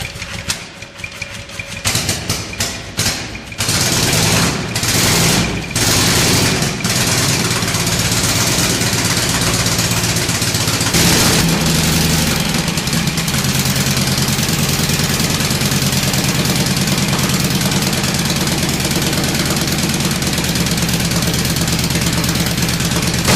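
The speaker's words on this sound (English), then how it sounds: "This 61 cubic inch V-twin, pushing 70 horsepower, shoots flames from its ported cylinder heads" A 61 cubic inch V-twin racing engine of about 70 horsepower, from 1910s board-track racing, sputters through a few uneven pops and then settles into a loud, steady running roar with a knocking, vibrating edge.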